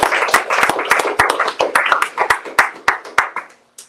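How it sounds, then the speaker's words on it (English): A small audience claps for a speaker at a speaker-series event: distinct, fairly close hand claps in an uneven patter that thins out and stops near the end. "Let's give a round of applause for Eliasa."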